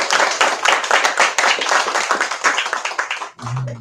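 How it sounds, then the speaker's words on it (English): Audience applause at a book launch, a dense burst of many hands clapping that fills the room, then cuts off abruptly near the end as a low hum and a brief voice take over. "Let's have another giant round of applause."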